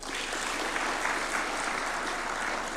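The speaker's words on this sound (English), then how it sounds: "Gaudensia Maloba, a round of applause for her" Dense applause from a crowd, steady and fairly loud throughout.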